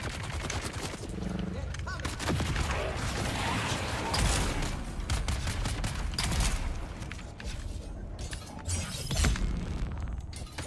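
Sustained gunfire and mechanical clatter in a Dune survival game combat scene, loud and continuous with rapid bursts and impacts layered throughout.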